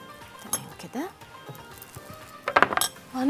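Metal utensils clink briefly against a bowl while fish kofta ingredients with spices, garlic and onion are mixed, a quick cluster of bright taps near the end, with a voice speaking nearby.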